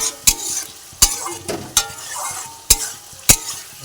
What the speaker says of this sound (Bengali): এবার আমি সব কিছু ভালোভাবে মিশিয়ে নিয়ে